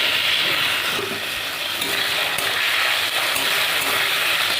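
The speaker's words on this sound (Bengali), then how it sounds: "এবার মাছগুলো ভেজে নেব।" Prawns seasoned with salt and turmeric fry in hot oil in a wok, giving a loud, steady, close sizzle that crackles on without pause and with no voices.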